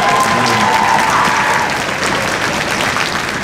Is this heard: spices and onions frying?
no